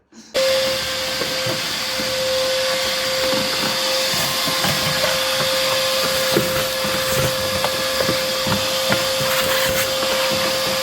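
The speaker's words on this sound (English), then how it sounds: "Maybe I'll grab the shop vac and suck some of this stuff up too." A shop vac runs steadily close by, cleaning debris out of a fire-damaged CF Moto Z Force 800 side-by-side, a loud constant whine and hiss with occasional clatters and rattles of material being sucked up.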